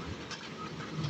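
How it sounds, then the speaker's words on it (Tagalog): Steady rain falls during a long spell of wet weather, a continuous close hiss with no breaks and no voices. "Matagal-tagal na tong ulan na to."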